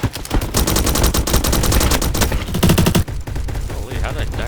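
A Skorpion vz.61 fires on full auto in the game Bad Business, firing loud rapid bursts broken by short pauses, with someone talking over the gunfire.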